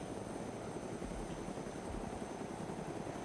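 A helicopter in the Arma 2 DayZ Mod Vanilla game makes a steady, low rotor rumble that stays fairly faint and constant throughout, with no talking.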